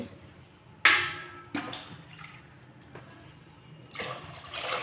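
Water splashes in a few short pours from a tumbler into a cooking pot for mushroom biryani, with quieter trickling between them, close by and fairly soft.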